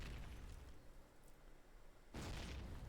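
Grenades in Call of Duty: United Offensive multiplayer go off as muffled booms, a dull rumble followed by a sharper, louder blast near the end, with no talk over it.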